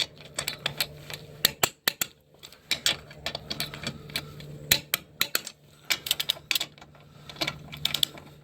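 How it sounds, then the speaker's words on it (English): A torque wrench tightens control arm bolts on a 2013-2016 Dodge Dart, giving a close run of sharp ratcheting clicks and knocks in uneven bursts with short pauses. "I'm going to go ahead and torque these to 55."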